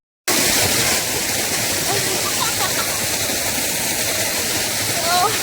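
Water cascading steadily from a small lit garden fountain built like a waterfall, a loud continuous rushing splash that starts abruptly and holds constant, close by, with faint voices beneath.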